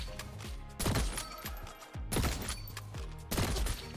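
The Eternal M700 Seraph fires in the video game Bloodstrike as a steady series of punchy, reverberant shots about a second apart. Each shot has a heavy low thump and a bright crack, and all of them are fairly faint.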